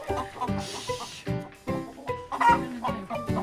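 Chickens cluck and squawk continuously nearby, several birds overlapping in a busy, chattering chorus.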